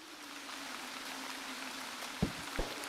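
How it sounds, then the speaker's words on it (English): Steady rain in the video game Zero Sievert, a soft continuous patter and hiss with a low hum beneath and a couple of brief thumps near the end. "Oh, it's dark and rainy."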